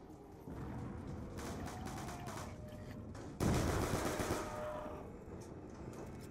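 Sustained automatic gunfire in a zombies round of a first-person shooter, a dense rattling stream that grows louder and heavier partway through, with no talk over it.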